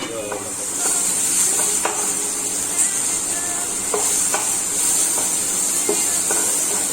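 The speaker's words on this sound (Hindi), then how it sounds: "बस थोड़ा देर और कुक करेंगे, उसके बाद हमारी वेजिटेबल्स रेडी हो जाएंगी" Green beans and other vegetables fry in a pan, a continuous loud sizzle and hiss broken by scattered scraping stir clicks throughout.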